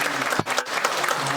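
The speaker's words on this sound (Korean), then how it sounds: "박수로 뜨겁게 환영하겠습니다." A church congregation claps together during a Sunday service to welcome new members, a dense burst of applause filling the room with a brief dip partway through.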